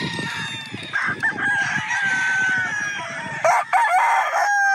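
A gamefowl rooster of an early bird line crows repeatedly, loud and close, with harmonic calls overlapping other crowing and clucking from nearby fowl.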